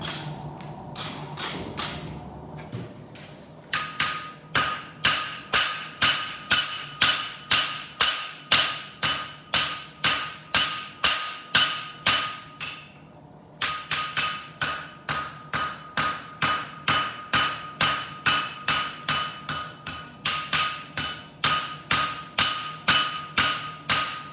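Hot metal struck repeatedly with a hammer at a forge, a fast, steady run of loud ringing blows that pauses briefly partway through, then resumes at the same even rhythm, close and with no talking.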